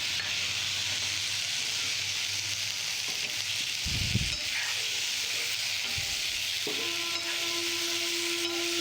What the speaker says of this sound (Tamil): வாழைக்காய் கொஞ்சம் வதங்கட்டும்.